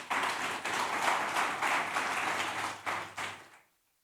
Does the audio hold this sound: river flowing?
no